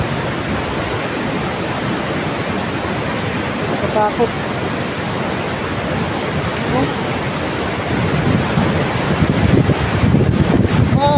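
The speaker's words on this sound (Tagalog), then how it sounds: "Tapos ang lakas ng tubig oh." Muddy floodwater rushing hard over the old Wawa Dam in Montalban, Rizal, a loud steady roar throughout with a person speaking briefly over it.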